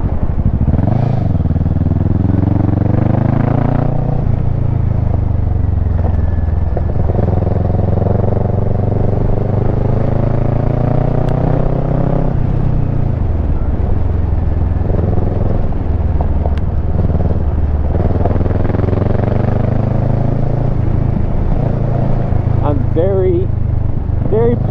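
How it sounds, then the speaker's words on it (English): Kawasaki Versys 650 motorcycle on the road, its engine droning loud and close throughout, pitch rising and falling with repeated gear changes and throttle swells over a steady rumble. "Satisfied with this motorcycle now."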